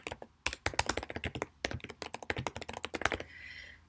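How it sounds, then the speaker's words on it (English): Rapid, close clicking of keys on a computer keyboard in a steady run of taps, stopping abruptly with a faint hiss of room noise. "I'm going to type"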